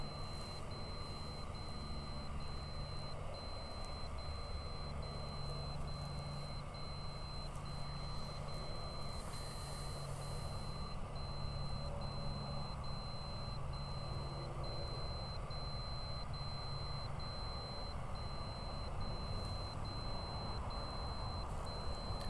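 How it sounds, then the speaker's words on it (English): A telescope receiving constant slew commands while tracking a near-Earth asteroid gives off a steady high-pitched electronic tone, continuous and unchanging for over twenty seconds over a hum of background noise. "Apologies if the beeping is annoying,"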